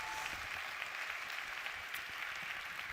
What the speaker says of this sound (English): give them one more round of applause because that was incredible